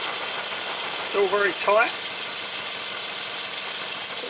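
A GWR 14xx tank locomotive engine runs on compressed air and gives a constant loud hiss of air with rough engine rumble beneath it, close by. Someone speaks briefly partway through.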